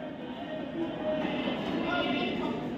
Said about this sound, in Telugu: కర్నూలు నుంచి విజయవాడకు పోయేటటువంటి హైందవ శంకారావం సభకు తరలి వెళ్తున్నటువంటి స్పెషల్ ట్రైన్ ఇది